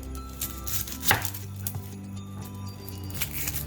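A knife chops an onion on a cutting board with a few distinct cuts, one noticeably louder, over a low steady background hum.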